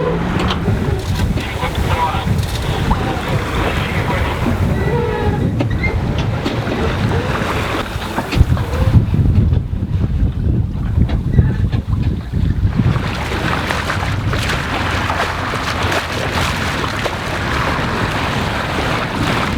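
Sailboat ploughing ahead in light winds of about 6-7 knots off St Tropez, a continuous rushing wash of water along the hull with wind noise, close and steady, a short quieter stretch midway.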